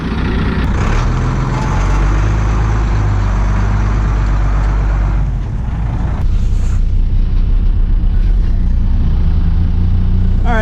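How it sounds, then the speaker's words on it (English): A vehicle driving on the road with its radiator fan missing gives a steady, loud, close engine and road rumble that runs the whole time with no talking. "I'm going to just drive this home and fix it."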